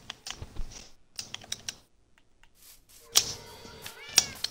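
Quick bursts of computer keyboard typing clatter nearby in uneven clusters, separated by short pauses, with a cat meowing over the later keystrokes.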